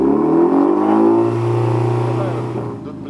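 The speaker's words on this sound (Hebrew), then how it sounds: "תלחץ גז, בבקשה." Car fitted with a non-original aftermarket Remus exhaust from an Austrian tuning company, revved loud and close in one sustained, throaty rise that settles and fades.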